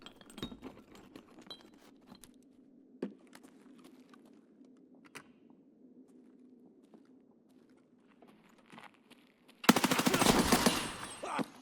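Gunfire in the video game Escape from Tarkov: scattered faint shots and clinks over a quiet low hum, then a sudden loud, rapid burst of close automatic fire near the end.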